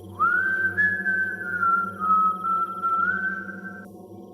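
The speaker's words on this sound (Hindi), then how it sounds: "वो आवाज ऐसी थी जैसे किसी ने सीटी बजाई हो।" A single long, steady whistle tone rises quickly at the start, then holds for several seconds with slight pitch wavers before cutting off, loud and alone over a low ambient hum, used as a sound effect in a cartoon horror story.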